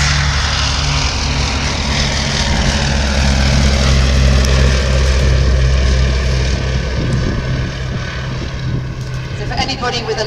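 A Westland Lysander propeller aircraft takes off in a Special Operations pick-up demonstration at Shuttleworth. Its loud, close engine roar and deep propeller throb hold steady for the whole stretch, easing slightly near the end, with a voice talking underneath.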